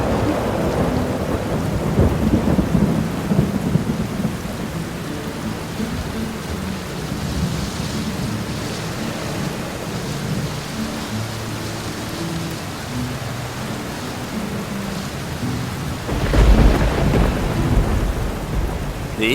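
Thunderstorm with steady heavy rain over open country near a golden eagle nest, a constant wash of rainfall with low rumbling thunder, building to a louder crack and roll near the end.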